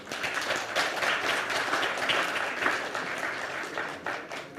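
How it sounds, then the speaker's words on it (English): A crowd at a national logistics summit claps steadily for several seconds, a continuous fairly quiet patter of many hands with no voices over it. "So please clap loudly."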